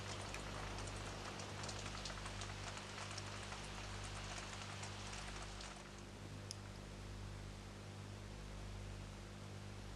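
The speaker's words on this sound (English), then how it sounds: "nothing to do now but kind of sit here and just wait for this rain to stop" Steady rain in Farming Simulator 17 hisses evenly as a broad wash of droplets that runs unbroken throughout, with a low hum beneath and no one talking.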